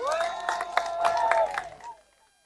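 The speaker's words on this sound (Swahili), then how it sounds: "Hebu pigeni huyu mama makofi." An audience bursts into applause mixed with raised, sustained cheering voices for about two seconds, then the noise fades quickly into silence.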